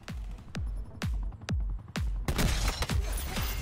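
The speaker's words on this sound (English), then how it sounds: "A massive high caliber revolver that fires devastating rounds with increased bullet penetration" Annihilator, a massive high-caliber revolver in Call of Duty: Black Ops 4, fires about seven heavy booming shots at a steady pace, each with a deep echoing tail, loud and close over rising battle noise.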